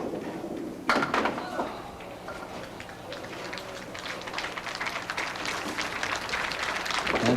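A crowd at a candlepin bowling tournament claps steadily for several seconds after a sharp onset, the applause fairly distant and spread through a hall.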